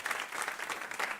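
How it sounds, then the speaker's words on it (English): Brief burst of audience applause at a climate event, many hands clapping together in an even, moderately loud patter, without any talk over it. "A round of applause for her as well."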